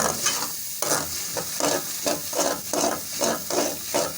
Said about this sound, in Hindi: अब हम इसकी वो करेंगे भुनाई बहुत अच्छे तरीके से।